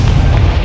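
A Confringo blast spell fired in Hogwarts Legacy, a loud, dense low-pitched boom that rumbles steadily for under a second with no pause or voice over it.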